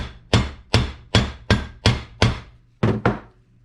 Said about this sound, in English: I'm just going to fold this cloth over on it and pound on it for a few times here